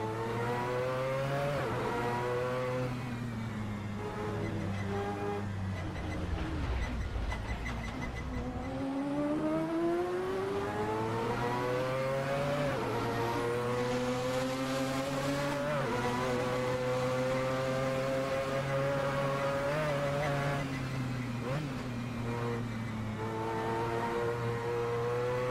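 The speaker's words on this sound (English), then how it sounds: "I've got an Indy car right on my tail." An Indy car engine racing close behind in a sim racing video game: a continuous, loud engine note that keeps rising and falling in pitch as it revs and shifts, with no talk.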